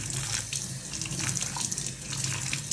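Warm tap water runs steadily into a sink as a necklace is rinsed, a continuous close splashing flow with no voices.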